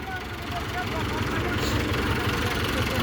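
A low, steady engine idles throughout, a constant rumble with a faint mid-pitched hum over it. Indistinct voices can be heard faintly in the background.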